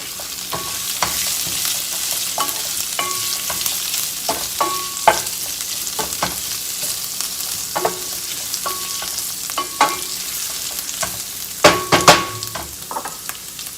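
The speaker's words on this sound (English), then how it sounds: "Just doing that light saute on the lemon and on the rosemary." Lemon zest and rosemary sauté over medium heat in a pan, giving a steady close sizzle broken by scattered stirring scrapes and clinks throughout, with no talking.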